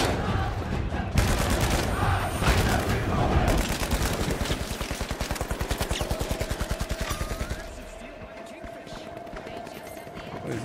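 Video game gunfire rattles in rapid automatic bursts, a long string of sharp evenly spaced shots dominating the first seven seconds before fading into quieter background action, with a voice talking over it.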